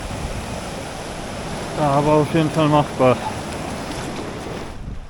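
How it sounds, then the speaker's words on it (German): River rapids with waves on the Piteälven in Lapland wilderness make a steady roaring rush of water throughout, with someone briefly speaking over it midway. "Das ist die Stromschnelle. Sind schon ein paar ordentliche Wellen drin."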